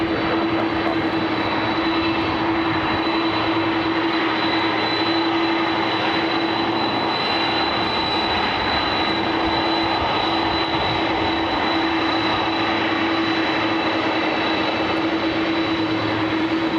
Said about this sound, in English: Emirates now started its taxi, heading over to taxiway Lima